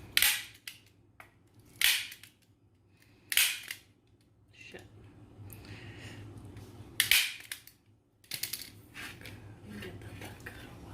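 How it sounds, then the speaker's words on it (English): A staple gun drives staples into canvas while a DIY canvas is assembled: five sharp, loud snaps at irregular intervals, close by, with quiet handling noise between them and no talking. "now I'm just gonna staple on top to make sure it's secure."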